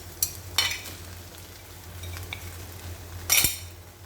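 Potatoes tipped into a pan of frying corned beef and stirred, with a few sharp scraping clinks of a utensil against the pan over a low, steady sizzle, close by.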